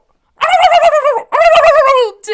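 A turkey gobble sound effect rings out loud and close in two long warbling bursts, then starts a third, with no talk over it.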